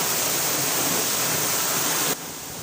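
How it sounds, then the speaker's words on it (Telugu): Rainwater pours in a heavy, continuous rush as it is collected, a loud, steady splashing flow that suddenly drops to a softer trickle near the end, with no talking. "మీకు వాన నీరు కలెక్ట్ చేస్తున్నా నేను"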